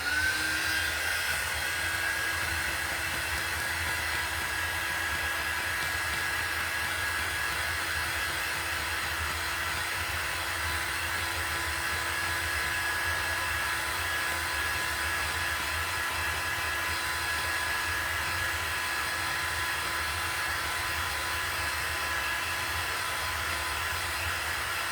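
A dryer blows steadily on chalk paste over a Halloween stencil wall collage, a loud, continuous whirring hum with a faint whine that holds unchanged throughout, with no talk.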